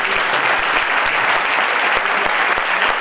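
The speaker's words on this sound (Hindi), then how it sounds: "शाबाश, जोरदार तालियां मिले भाई।" Loud, continuous applause from a large audience at an RCM motivational meeting, dense clapping from many hands filling the whole stretch evenly, with occasional low thumps underneath.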